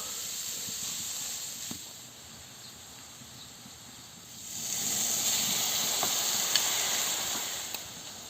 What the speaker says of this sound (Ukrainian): додамо ще трішечки олії, все спасируємо